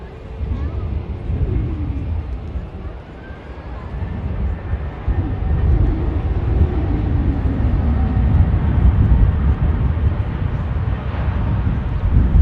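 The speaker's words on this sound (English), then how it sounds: "the aircraft there is an Embraer 190, 5 years old, operating like Air France 1669 back to Paris Charles de Gaulle" An Air France Embraer 190 jet airliner departs Manchester Airport for Paris Charles de Gaulle, its engine rumble building gradually from moderate to louder and sustained, with faint shifting whine tones over a deep low roar.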